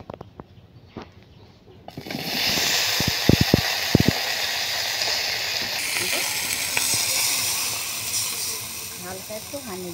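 Potatoes and cabbage frying in hot oil in a pan outdoors, a loud steady hiss and sizzle that bursts in after a quiet start and keeps going, with scattered clinks and scrapes of stirring.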